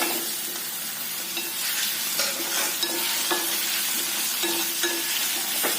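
Guava pieces sizzling and frying in hot oil with garlic and asafoetida, a steady bright sizzle under intermittent scraping and stirring sounds from a spoon in the pan.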